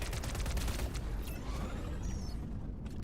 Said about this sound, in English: I'm shooting the turrets.